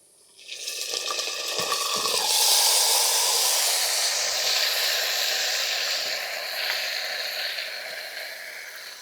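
Meat dropped into a hot pan of fried potatoes bursts into a loud, sustained hiss and sizzle that holds steady for several seconds, close up with no talking.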